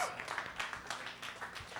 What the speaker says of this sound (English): round of applause for Blaze